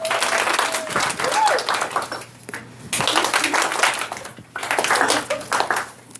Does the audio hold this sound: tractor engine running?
no